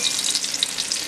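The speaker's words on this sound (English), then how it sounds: "So let me put a little bit of the bacon on here." Bacon sizzling in a pan for a Brussels sprout hash, a brief close burst of bright, even crackling and spitting with no voices.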